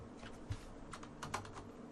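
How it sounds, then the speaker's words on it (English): Keystrokes on a computer keyboard, a short burst of light clicking taps that rises and falls unevenly, close and fairly quiet over a low background hum. "So I just type in here clay."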